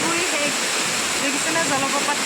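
A waterfall roars steadily in the rain, a dense, even wash of falling water that fills the whole stretch without pause, with faint tonal traces suggesting distant voices or birds beneath it.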